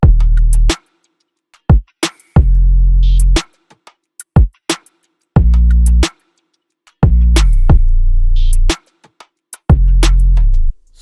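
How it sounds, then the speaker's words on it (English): An R&B beat plays alone: booming kick and sub bass hits land in a steady, sparse pattern, punctuated by sharp snares, a clap, finger snaps and an open hi-hat, loud and close. "that's pretty much all the drums all together. It sounds like this."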